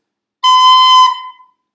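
A single shrill, piercing squeal from an overblown recorder, sustained for under a second and then quickly fading, loud and alone in silence.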